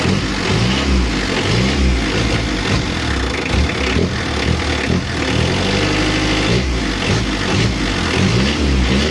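A Mitsubishi L300 diesel engine fitted with a new 12mm rotor head and upgraded final gear ratio revs hard and steadily, close and loud, its roar rising and falling through repeated throttle blips with no talking.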